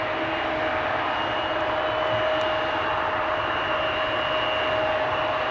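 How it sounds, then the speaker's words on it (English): An Embraer 190 jet at Amsterdam Schiphol gives off a steady, even roar with a sustained tonal whine held throughout, constant in loudness from start to finish. "another Embraer 190"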